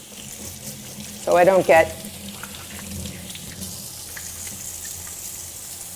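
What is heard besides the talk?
running tap water, washing hands at a sink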